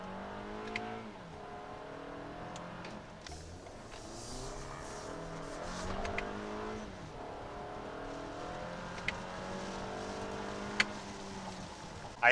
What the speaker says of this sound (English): it literally fights the traction, cuts the RPMs